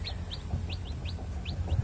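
Chickens peck at fine rice bran feed, letting out short, high clucks and chirps at a brisk, uneven rhythm over a low rumbling background, close by and fairly clear.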